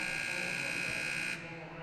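Final buzzer sounding at the end of a college basketball game between Oakland and Wright State at the Nutter Center, a loud sustained electronic horn that cuts off abruptly near the end over arena noise.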